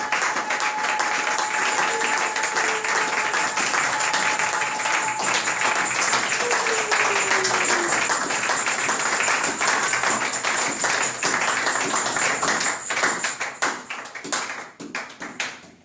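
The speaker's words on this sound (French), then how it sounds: "Acclamons." A church congregation at a Sunday service claps and applauds steadily for about fifteen seconds, a dense and loud sound that thins out toward the end, with a faint sustained tone under part of it.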